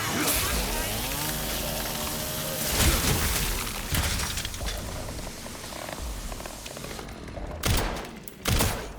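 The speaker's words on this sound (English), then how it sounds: "I got hit while swinging the chainsaw." A chainsaw swings in Resident Evil Requiem, giving a revving, buzzing snarl that breaks into harsh bursts and heavy impacts, loud and close, with rough noisy hits toward the end.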